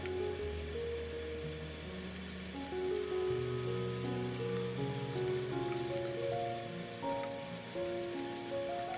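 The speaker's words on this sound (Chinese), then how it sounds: "放入肉片后，用中火慢慢煸炒，把肉炒透、炒熟" Meat slices stir-frying in oil in a wok over medium heat give a steady, soft sizzle, heard under continuous background music.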